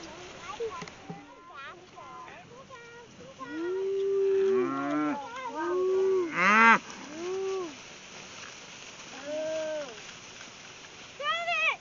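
Several medium-frame cows on pasture moo loudly in a row, long drawn-out calls, some overlapping, with quieter lowing and rustling between them.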